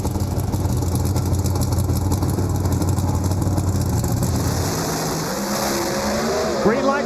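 Chevrolet Camaro NHRA drag race run in Las Vegas, a loud steady roar of racing engines throughout, with tire noise and a changing engine pitch near the end as the cars pass; a commentator's voice blends in underneath.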